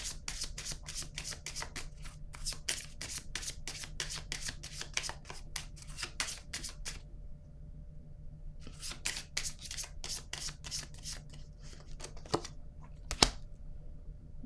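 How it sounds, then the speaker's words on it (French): Tarot cards are shuffled and drawn in a long run of brisk riffling and rubbing bursts that pause midway, then resume, with a sharp card snap near the end; close and moderately quiet, with no talk. "Là, je vais piger une carte pour cette zone."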